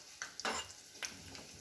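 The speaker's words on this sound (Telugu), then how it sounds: "నేను తిరువాత కోసము ఆవాలు జీలకర్ర వేసేసుకున్నాను. నెక్స్ట్ కొంచెం కరివేపాకు వేసుకుంటున్నానండి." Mustard seeds, cumin and curry leaves temper in hot oil for a ginger chutney, giving a soft sizzle with a few quick stirring scrapes and light spatters, quiet and close.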